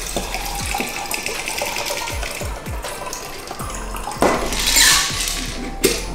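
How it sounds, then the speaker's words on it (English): A whisky cocktail pours and splashes into a glass for a few seconds, with light clinks of ice and glassware around it, close up. "We're going to pour that in our glass."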